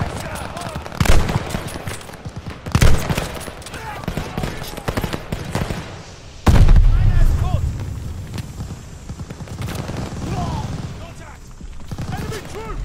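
Rapid machine-gun fire and scattered rifle shots in Call of Duty: Vanguard's Operation Tonga mission, fought around half-tracks, crackling in dense bursts with heavy booming impacts, while voices shout over the battle.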